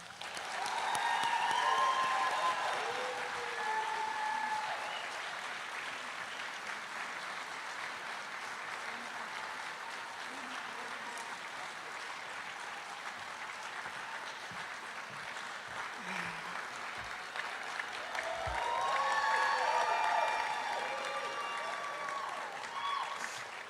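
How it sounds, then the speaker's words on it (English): Audience at a high school's annual gala applauds an award presentation, steady clapping from a large room that swells at the start, holds, then rises again near the end. "Please join me in giving Miss Bly an applause."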